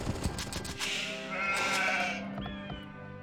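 Sheep in Age of Empires 2 give a clear, drawn-out bleat over a steady background of game music and ambience.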